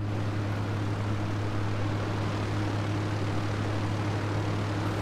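A video-game airplane engine in GTA Online drones loud and steady throughout, a constant low propeller hum with no pauses.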